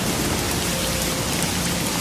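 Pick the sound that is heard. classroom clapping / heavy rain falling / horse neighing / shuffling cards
heavy rain falling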